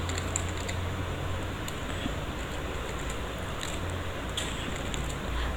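Keys clatter as a Python program is typed on a computer keyboard, a run of faint, irregular clicks set against a steady background hum.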